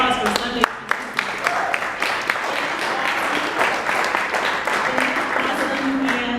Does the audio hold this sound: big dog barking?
no